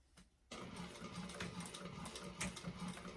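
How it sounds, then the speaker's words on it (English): A sewing machine starts up and runs a steady, even whir while top stitching a bag seam at a narrow eighth-inch allowance, fairly quiet and close, with no voices. "you're going to top stitch along that with 1/8 of an inch seam allowance"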